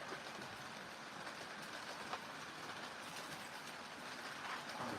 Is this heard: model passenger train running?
yes